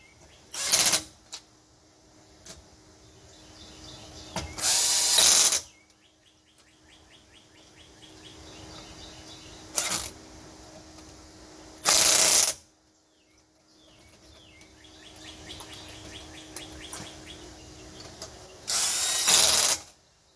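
A ratchet tightens the wheel lug nuts on a 2001-2005 Ford Explorer in a star pattern during a brake rotor and pad job, heard as short bursts of clicking repeated at intervals against a quiet background.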